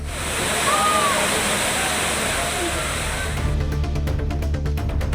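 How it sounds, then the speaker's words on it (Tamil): Kavi waterfall near Aliyar, Pollachi, where tourists bathe: a loud, continuous roar of falling water, broad and unbroken, with the texture shifting slightly toward the end. "பொள்ளாச்சி அருகே ஆழியார் கவி அருவியில் சுற்றுலா பயணிகள் குளித்து மகிழ்ந்தனர்."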